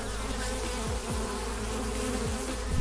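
A dense, continuous drone of many honeybees buzzing close by in an opened hive, thick and unbroken, with a few individual bees swooping past.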